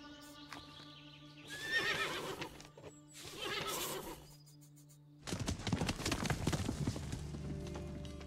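A horse in the western video game Above Snakes whinnies loudly twice, then hooves clip-clop steadily at a run. The sounds are close and prominent over a faint game backdrop, with no speech.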